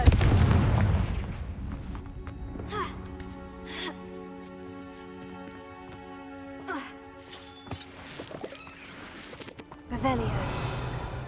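Confringo blasting spells explode in a Hogwarts Legacy game, with several sharp booms scattered over a quiet, tonal background and a heavier blast at the end.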